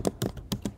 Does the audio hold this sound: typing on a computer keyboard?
yes